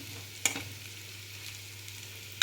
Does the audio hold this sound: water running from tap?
no